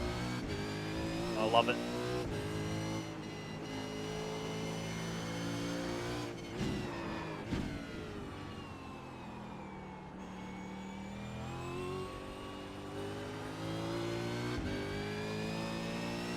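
A Supercars race car in iRacing roars with a loud, sustained engine note that rises and falls through gear changes, while a voice talks over it.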